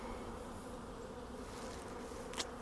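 Honeybees clustered inside a late-winter beehive with deep and medium boxes, giving a faint, steady, low buzzing hum throughout, with a brief click near the end and no talk.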